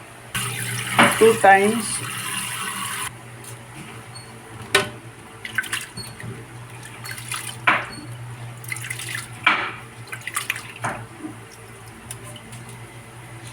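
Rice being washed under a running kitchen tap, water splashing and trickling near at hand with scattered drips and clinks, loudest at the start then quieter, while a voice talks briefly.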